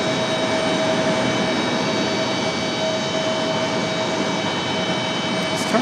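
A jet airliner departing Raleigh-Durham International roars steadily and loudly throughout, a broad continuous engine rumble with a faint high whine, no voices.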